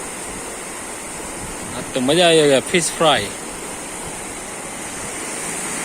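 Floodwater of the Rupen River rushes beneath a road bridge after heavy August rain, a steady broad roar filling the whole stretch while someone speaks briefly over it.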